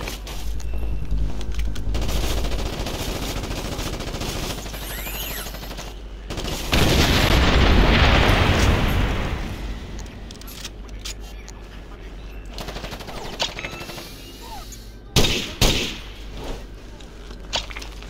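Gunfire and explosions in Ghost Recon Advanced Warfighter, the tactical shooter's battle noise rumbling continuously with a loud blast swell in the middle and a couple of sharp later shots.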